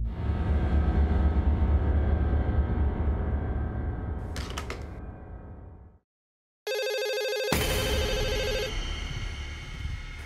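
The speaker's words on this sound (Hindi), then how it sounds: "आई एम सॉरी, मुझे फोन आ रहा है।" An incoming-call phone ringtone sounds in a crime drama scene: a loud electronic ringing with bright tonal bursts that starts abruptly after a brief silence and carries on steadily near the microphone.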